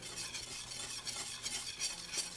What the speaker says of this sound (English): And I just stir everything in and just kind of watch it.